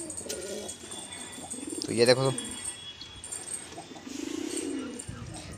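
Pigeons kept in a home loft cooing close by, soft low throaty coos repeating among rustling and a few brighter chirps, with someone talking at times.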